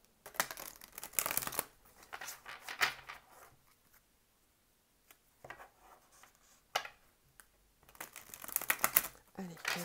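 Tarot cards are shuffled for a new draw in quick papery riffling bursts, loudest at the start and the end, with a voice talking in between.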